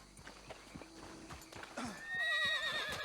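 In Red Dead Redemption II, a horse snorts and paces with soft clip-clopping hooves before breaking into a loud, wavering whinny that rises and holds near the end.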